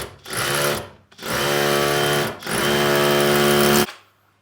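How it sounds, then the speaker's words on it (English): A Makita or DeWalt power drill drives into a pond pump's foot, whirring in three steady bursts of about a second each, with brief pauses between, close and loud. "I've decided to drill the pump down just to hold it on one of the feet"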